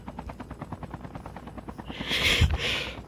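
Helicopter rotor chop in a video game, a steady rhythmic thumping throughout that swells into a louder whooshing burst near the end, with no talking over it.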